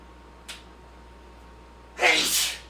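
One person sneezes loudly and close by after a brief faint sniff, a single sharp burst standing alone in a quiet room during a card game.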